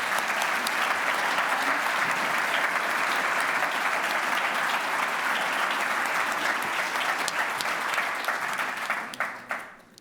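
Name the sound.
applause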